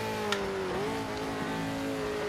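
Race car engine in the PMR SPEC 2.0 racing game holding a steady, loud drone with a rising and falling pitch as the throttle is worked, continuous and close with no talk.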